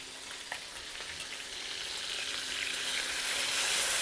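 Food browning in a pan sizzles steadily as stock is poured in, the hiss swelling and growing louder toward the end, close and with no voices.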